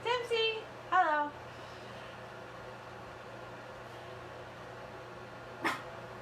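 A small puppy gives a few high, yappy barks close by, two quick bursts near the start and one short yip later, over a low steady hum in an indoor room.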